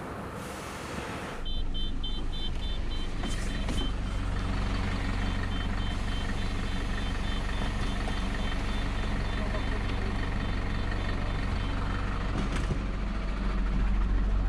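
A tow truck hauling away a wrecked, totaled car, its diesel engine rumbling steadily while a reversing alarm beeps in a regular rhythm, with faint voices in the background.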